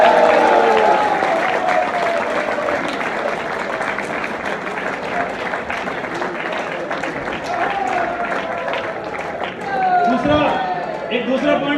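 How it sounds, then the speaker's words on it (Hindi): An audience at a business plan launch event breaks into sustained clapping, a dense, steady applause over a large hall with an amplified voice talking over it. "वाह वाह, एक ताली हो जाए।"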